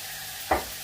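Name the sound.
bacon frying in a pan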